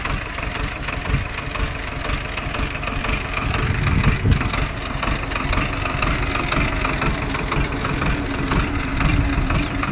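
A farm tractor's engine idles out in a field, a steady loud chugging rumble with a fast even knock running throughout.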